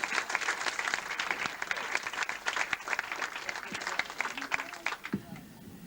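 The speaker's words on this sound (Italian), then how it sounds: "È l'amico Felice Lopez, al quale facciamo un applauso." An audience applauds collector Felice Lopes of Salina with sustained, lively clapping from a full room, which thins out and stops near the end.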